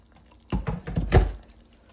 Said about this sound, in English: we're going in with a little more water